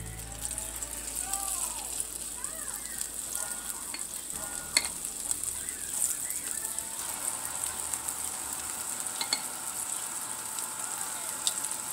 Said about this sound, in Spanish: acá en un sartén amplio con suficiente aceite, ya muy bien caliente, vamos a empezar a poner a hacer lo que son las tortitas.